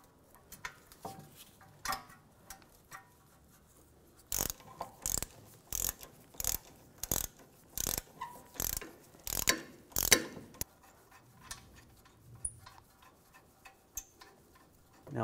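A hand ratchet tightens the rear wheel bearing bolts on a 2004-2009 Audi A4 Quattro, with bursts of sharp, rapid clicking strokes in close-up, separated by short pauses and light handling sounds, with no talking.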